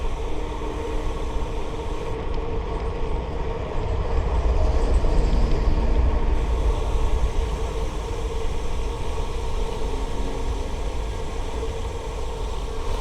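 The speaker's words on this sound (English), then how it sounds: "this is the BNSF Railroad's main train yard in the Interbay area." BNSF Railroad main train yard in Seattle's Interbay area, a steady low rumble of rail traffic with faint rolling and clanking, swelling slightly midway, heard from nearby on a bike path without speech.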